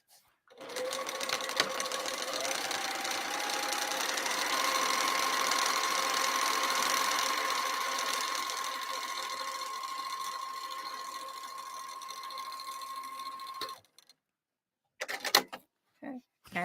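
A sewing machine runs a steady, continuous stitching burst for about thirteen seconds while sewing a quarter-inch seam along the edge of a bowler bag exterior, then stops, leaving a few brief handling clicks.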